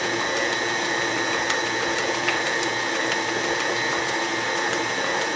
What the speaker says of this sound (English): mix at medium-low speed until batter is thoroughly combined